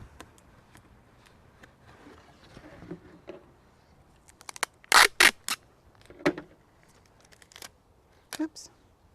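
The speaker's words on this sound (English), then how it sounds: "So we take our tape and start taping down" Tape being pulled from a roll and pressed down along the edge of a homemade solar oven lid, sounding as a few sharp, loud ripping bursts near the middle and end over a quiet background with soft handling noises.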